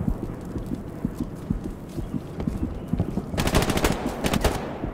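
Gunfire in the WWII shooter Hell Let Loose, sharp rapid shots crackling in bursts from mid-distance, with a louder, denser volley near the end.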